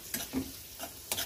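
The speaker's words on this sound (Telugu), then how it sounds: "కాజు, కిస్మిస్ 2 వేగాలి. కొంచెం గోల్డెన్ బ్రౌన్ వచ్చే వరకు వేయించుకోవాలి." Cashews and raisins frying in a pan for sweet pongal, a soft sizzle with a few light stirring scrapes and pops, close and quiet with no talk.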